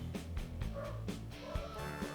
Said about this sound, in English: as the dog goes nuts